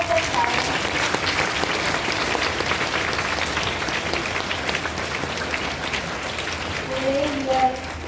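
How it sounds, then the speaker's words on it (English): A school audience at Carmel School Dhanbad's Establishment Day breaks into sustained, dense applause for the whole stretch, swelling slightly near the end, with a voice faintly audible beneath. "Let's also give a good round of applause for the audience."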